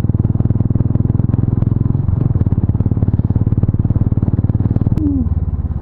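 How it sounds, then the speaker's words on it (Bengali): A motorcycle rides hard over a very rough, broken road on a hill trip toward Darjeeling, its engine droning loud and steady close by with rattling clatter throughout and a brief squeal near the end. "আর আজকে সব থেকে জোরে বাইক চালাচ্ছি"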